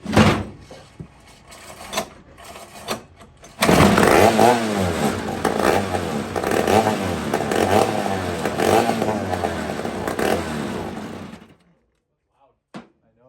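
A rusty, rare old chainsaw with no muffler sputters to life after a few faint pulls, running loud and ragged for about seven seconds with uneven revving before cutting out to near silence.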